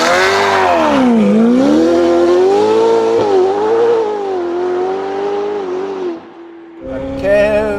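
A Novitec-tuned Ferrari F8 Tributo accelerates hard, its engine note climbing loud and close through the revs with a brief dip mid-run. It drops away near the end, then roars up again.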